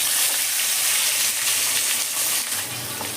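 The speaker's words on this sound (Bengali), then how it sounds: "এই সময় আমি পাবদা মাছগুলো তেলের মধ্যে আস্তে করে ছেড়ে দেবো।" Pabda fish sizzling in smoking-hot oil in a wok, a steady, close, dense hiss that holds throughout and eases slightly near the end, with no talking.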